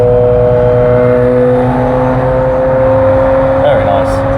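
A Ferrari Challenge race car engine runs loud and close in a steady, sustained drone, with a slight rise near the end and no voices over it.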